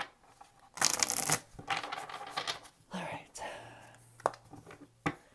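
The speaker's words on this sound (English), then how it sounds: "Last shuffle." Soft riffling and slapping of tarot cards being shuffled in several quick bursts, close up and fairly quiet, with faint voice-like murmurs between.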